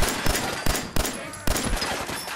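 Gunfire in Fallout 4 survival mode: four sharp, loud shots in an uneven rhythm, each a broadband crack over a steady background of game ambience and rain.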